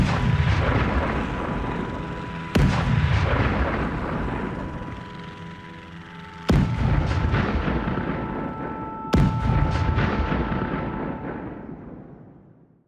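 An artillery barrage in an audio drama: three heavy booms hit a few seconds apart, each sharp onset followed by a long rumbling decay, loud and close, over a sustained low drone.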